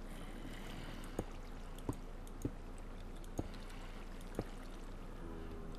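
Steady low water flow runs through a blocky video game room, a constant soft rush with about five faint clicks spaced across it and no voices.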